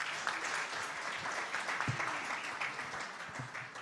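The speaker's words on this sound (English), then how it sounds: "Big round of applause," Steady applause from an awards-night audience at a startup awards ceremony, a continuous wash of clapping at moderate level with a few sharper individual claps standing out.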